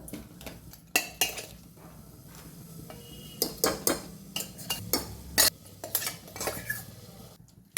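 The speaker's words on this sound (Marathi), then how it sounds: "त्याला हलवून घ्यायचं हलक्या हाताने" A metal spoon stirs wheat kheer in a pressure cooker, giving repeated sharp clinks and scrapes against the pot in an irregular rhythm, close and clear with no talk.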